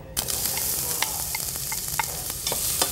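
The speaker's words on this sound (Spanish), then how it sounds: "Y lo vamos a poner en una ollita a sofreír." A diced mirepoix of celery, onions and carrots sautés in a small pot for chickpea and chicken soup, with a constant crackling sizzle broken by repeated clicking stirs and scrapes.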